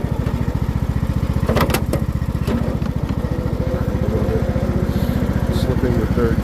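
A John Deere LA100 riding lawn mower runs with its transmission slipping in third gear, giving a loud, steady, close engine drone with a rapid pulsing rhythm throughout.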